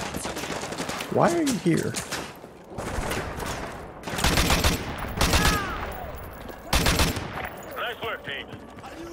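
Bursts of gunfire rattle from several directions in the Call of Duty: Modern Warfare 2 campaign, with loud broadband shots clustered in waves and a player's voice speaking between them.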